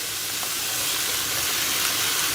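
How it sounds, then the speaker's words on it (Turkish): Tomato paste sizzles and fries in a pot with peppers and tomatoes, a steady close hiss of frying with faint stirring, no voices. "Domates salçasını hem kavuracağız hem de biberlerin, domateslerin her yerde değmesini sağlayacağız."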